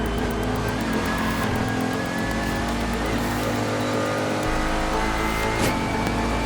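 A race car at speed on a lap around Sebring, its engine droning loud and steady, rising and dipping with gear changes and throttle, with no talk over it.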